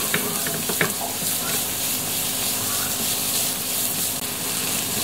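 Garlic and onion sizzling together in a hot pan for chicken sinigang, a steady close frying hiss with a few scraping stirs near the start.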